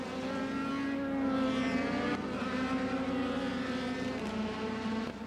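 Star Mazda race cars scream past on the opening lap at Autobahn Country Club, a loud sustained engine whine with shifting pitch and layered overlapping cars, no voices over it.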